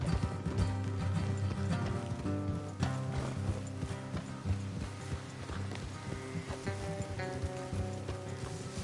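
Horses' hooves clip-clop steadily along a road in a video game, a continuous rhythmic trot heard under a constant layer of music, with no speech.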